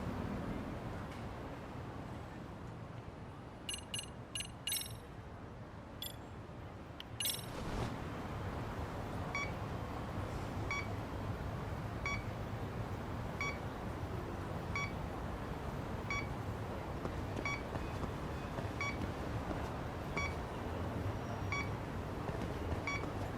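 A bug detector gadget in the video game Lost Judgment beeps in a steady, evenly spaced pulse, with a brief cluster of different electronic tones just before it, all over a continuous background hum.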